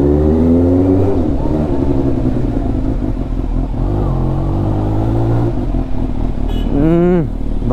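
A Kawasaki Ninja H2 or ZX10R motorcycle rides slowly down a narrow lane, its exhaust burbling loud and close with a steady low drone, then a brief rev near the end.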